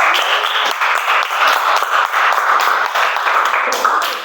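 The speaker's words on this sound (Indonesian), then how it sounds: "tepuk tangan untuk kelompok 1 dulu" A schoolroom of pupils claps for group 1, a steady wash of many hands that holds at an even level the whole time, with a few voices mixed in.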